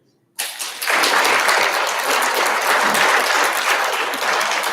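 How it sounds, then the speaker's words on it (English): After a quiet moment, an audience at an awards ceremony bursts into loud, sustained applause that holds steady for several seconds, a dense wash of clapping close by. "give another round of applause here for the parents"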